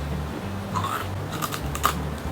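A crunchy maple cookie, partly burned and baked without electricity, bitten close up, giving a few sharp crisp crunches over a low background hum.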